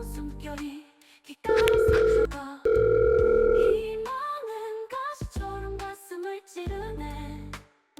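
Loud electronic telephone tones: sustained beeps that step between pitches with short gaps, like a call connecting and ringing.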